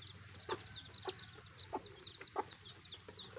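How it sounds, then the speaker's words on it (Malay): Chicks peep rapidly in high, thin chirps throughout, with a few soft clucks underneath. "Ini anak ayam, guys."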